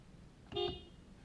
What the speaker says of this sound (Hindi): ये इसका हॉर्न